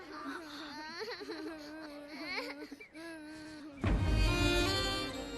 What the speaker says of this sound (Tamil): சின்ன பசங்க ஏன் இப்படி அழுகுது மலர்?